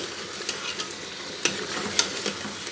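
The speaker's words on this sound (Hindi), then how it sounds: "इतना भूनना है इसको कि ये टमाटर इसके अंदर मिक्स हो जाए।" Tomatoes frying with mutton and potato curry in a pan, a soft continuous sizzle with occasional scraping stirs and small clicks of a spoon, fairly quiet and close with no talk.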